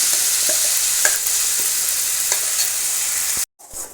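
Ground masala frying in a pan for a Karnataka-style mashed avarebele (hyacinth bean) saaru, a loud steady sizzle with faint scraping stirs, cut off abruptly near the end.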